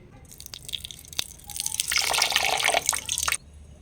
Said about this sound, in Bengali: এবার এর মধ্যে আমি হাফ বাটি পরিমাণ জল দেব।